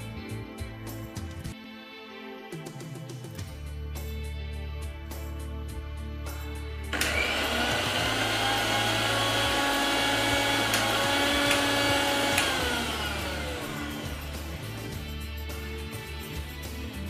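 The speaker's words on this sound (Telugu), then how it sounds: "మిక్సీలో వేస్తే బాగా స్మూత్గా వచ్చేస్తుంది" A kitchen mixer grinder runs on crispy roasted chickpeas, starting as a steady whirring motor drone and then surging into a louder, harsher grinding roar that holds for several seconds.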